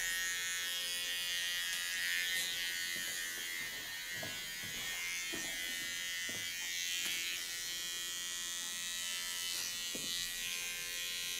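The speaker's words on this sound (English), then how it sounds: "Do this with my small peony clipper" A small electric hair clipper buzzes steadily at close range while trimming hair during a perm and hair-colour styling session, its high whine continuous with slight changes as it moves, with no talking.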